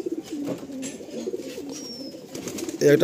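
Madrasi pigeons coo softly in a loft, low repeated throaty calls close by, overlapping in a gentle rolling rhythm.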